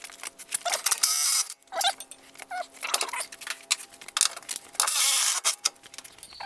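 Bolts being loosened and pulled from the lower link of a Honda Pilot's rear suspension with an adjustable wrench, heard as close metallic clicks, scrapes and clanks coming in irregular bursts with short pauses between them.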